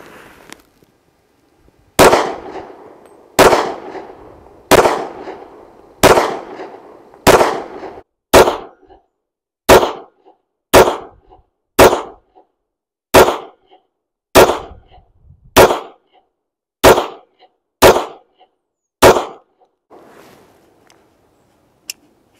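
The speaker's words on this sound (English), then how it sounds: "run some rounds through it and kind of do a rough side-by-side with the" Sixteen loud, sharp gunshots from a Smith & Wesson SD40VE .40 caliber pistol ring out one after another at a steady pace about a second apart, each cracking close and echoing briefly outdoors, with no talking.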